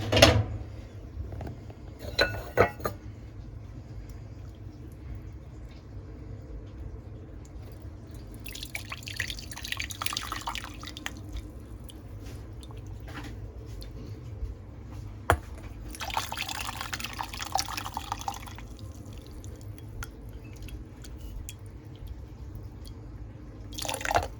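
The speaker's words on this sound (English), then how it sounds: "What I'm going to do first is just strain the liquid." Vegetable-peel stock strained in a kitchen, liquid pouring and dripping steadily with occasional clinks of pots and utensils, close and fairly quiet, no talking.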